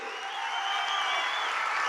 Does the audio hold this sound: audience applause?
yes